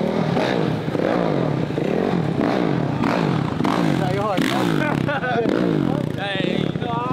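A mini bike engine revs hard through repeated rising and falling throttle bursts as it makes a street pass, loud and close with clattering and voices in the background.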